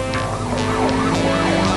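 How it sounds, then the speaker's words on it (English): A police car siren wails in rising and falling sweeps during a chase in a Batman audio drama, loud and close over engine noise, with no voices. "The police car soon overhauls it."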